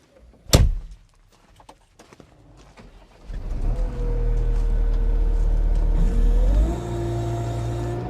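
A 2022 New Holland C332 compact track loader engine cranks and catches after a sharp door slam, then settles into a loud steady diesel idle that steps up in pitch as it revs, close by with no talking.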